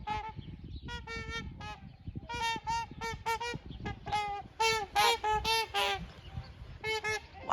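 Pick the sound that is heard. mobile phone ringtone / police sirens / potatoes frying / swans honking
swans honking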